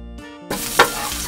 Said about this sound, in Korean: 양파 이렇게 넣고 볶아주세요